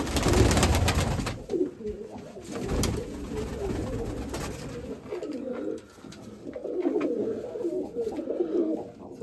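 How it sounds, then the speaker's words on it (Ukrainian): Mykolaiv-breed pigeons coo in a series of soft, close, rolling calls, with some louder rustling and handling noise at the start and a few pauses between coos. "Голубок."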